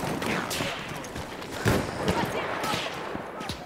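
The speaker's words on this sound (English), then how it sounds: "Oh, someone is shooting at us." Constant gunfire in the video game Battlefield 1, a steady rattle of overlapping shots and bursts, loud and close, with no gap for the whole stretch.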